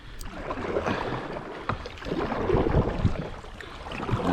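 Kayak paddle strokes splashing on calm water near a stream, close and continuous with small irregular drips and swishes, no voices.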